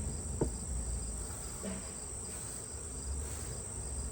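Honey bees buzzing around a hive box, a faint, steady hum that carries on unbroken, with a few soft knocks and no voices.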